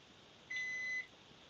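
A microwave oven beeps once when its cooking finishes, a single steady electronic tone about half a second long, clear but fairly quiet against a faint room hiss.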